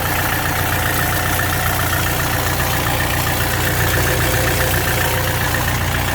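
Four-cylinder diesel engine of a Kubota RX-501 excavator running at a steady idle, a loud, even, close-up clatter and rumble with no pauses and no talk.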